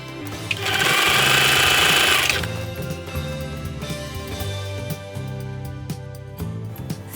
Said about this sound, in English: Once we have sewn at 3/8 of an inch, you open and then zigzag on each side to flatten the seams